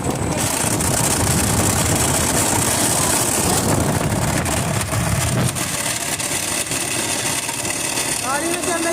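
A Honda Shine motorcycle engine runs loud and close with a gearbox fault, giving a steady mechanical drone with whirring and rattling gear noise throughout, and a brief rise in pitch near the end.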